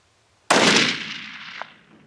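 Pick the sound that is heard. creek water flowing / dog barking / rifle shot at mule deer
rifle shot at mule deer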